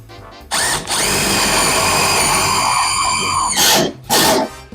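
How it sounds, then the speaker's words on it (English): A power drill whines loudly while driving a screw into an aluminum sign, followed by two short bursts as it finishes, with no talking. "Put a screw on this side."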